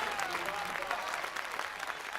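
Audience at a Hindi comic poetry gathering claps steadily, a dense, even burst of applause from a crowd that fills the whole moment.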